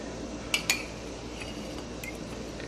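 A metal fork mashes saltfish in a bowl, giving a few faint clinks and taps against the dish with soft scraping between them and quiet pauses.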